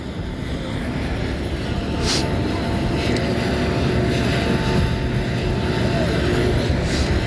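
Airplane on the ground at night in windy Buffalo after the 1988 AFC Championship, a steady broadband roar of engine and wind noise filling the whole stretch, loud and continuous.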